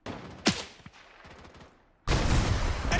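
Gunfire in the shooter Project: BloodStrike: a sharp shot and some scattered pops, then a sudden dense burst of continuous automatic fire that fills the last second, loud and close.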